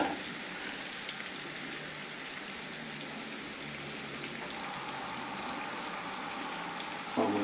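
Bacon-wrapped chicken drumsticks brown in a hot pan, giving a close, steady sizzle and crackle like rain on a surface that holds at the same level throughout, alone.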